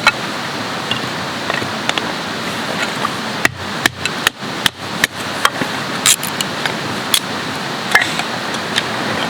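Firewood being split down at a winter bushcraft hammock camp: a quick series of sharp, close chopping strikes clustered in the middle, then sparser knocks over quiet outdoor background.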